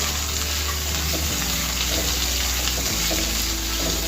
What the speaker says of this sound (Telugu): ఉల్లిపాయలు, పచ్చిమిర్చి. మీడియం ఫ్లేమ్ మీద పెట్టేసి వేయించుకోవాలి.